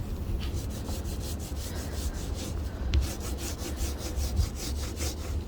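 A cloth or hand rubs primer into chipboard furniture in quick, regular back-and-forth strokes, a close, dry scrubbing rhythm heard alone.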